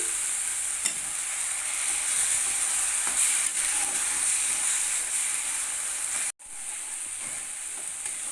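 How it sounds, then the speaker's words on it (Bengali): Ginger, garlic, tomato and green chili paste sautéing with onions in a pan over a low gas flame, a steady bright sizzle with occasional stirring scrapes and a brief cutoff near the end. "আদা রসুন টমেটো কাঁচা লঙ্কার পেস্টকে পেঁয়াজের সঙ্গে একটু কষিয়ে নিতে হবে"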